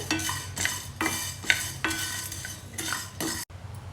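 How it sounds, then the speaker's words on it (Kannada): A metal spoon scrapes and clinks repeatedly against a pan as a dry spice mix for bisi bele bath powder is roasted, with rhythmic stirring strokes up close and a faint sizzle underneath. "ಈಗ ಮಸಾಲೆ ಐಟಮ್ನ ಎಲ್ಲ ಒಟ್ಟಿಗೆ ಸೇರಿಸ್ಕೊಂಡು ಈ ರೀತಿ ಬಿಸಿ ಮಾಡ್ಕೊಂಬಿಡಿ"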